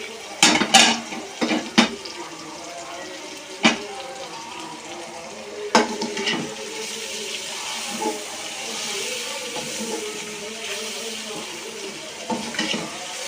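Chicken browning for biryani in a pot, with intermittent sharp scraping and clanking of a spoon stirring over a soft, steady sizzle, spaced strokes standing out loud and close.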